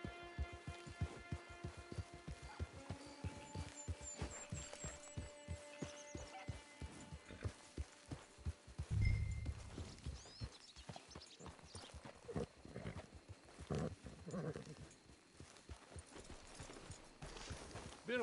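Horse hooves clip-clopping in a PS4 video game, a steady rhythmic run of close hoofbeats over a low hum that slows and thins out midway, with scattered softer clatter after.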